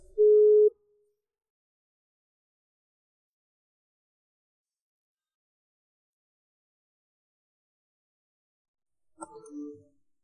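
A telephone busy tone sounds right after a call is hung up in anger, one short steady beep at the start, then a long silence before faint rustling at the end.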